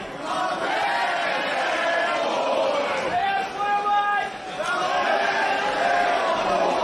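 A wrestling crowd in Jersey City chants back in unison, a loud, sustained roar of many voices filling the room, with a brief dip midway before the massed shouting swells again.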